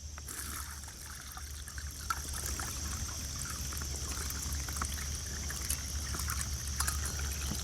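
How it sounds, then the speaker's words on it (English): Water trickles and pours steadily into a bag, a soft continuous liquid stream with faint splashing, moderately close and unbroken, with no talking. "Take the water, slowly pour it into the bag."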